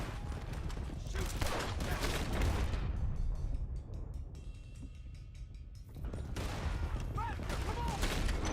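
Gunfire in Red Dead Redemption 2 during a wagon chase, dense bursts of loud shots with a brief lull midway, under shouting voices and rumbling movement.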